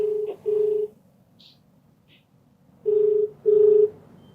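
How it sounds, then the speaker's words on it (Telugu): Phone keypad tones beep in two pairs, separated by a short pause, with faint faraway clicks between them as a number is dialed for a call; no one speaks. "అయితే నేను కాల్ చేస్తానండి, మీకు సస్పెన్స్ ఎందుకు"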